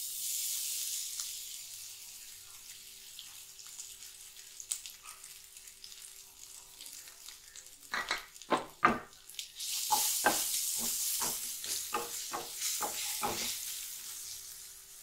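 Grated raw mango being stirred into rice in a pan for Tamil-style mango rice, with soft frying hiss at first, then a burst of repeated scraping strokes midway, close and fairly quiet.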